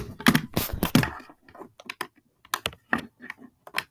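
Someone types on a computer keyboard at close range, producing bursts of crisp, irregular key clicks with short pauses between them. No one speaks.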